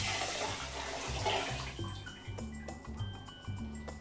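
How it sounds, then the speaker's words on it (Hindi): One litre of water is poured into a cooking pot already holding a kilo of sugar, a steady close rush of liquid that fades into faint sloshing and drips, with no talking. "ये 1 लीटर पानी है वो भी इसमें जाएगा।"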